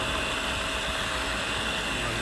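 An old electric oil extraction pump, used for an oil change on a Mercedes SLK R170, runs with a steady loud hiss and hum for the whole moment, with no other sounds standing out.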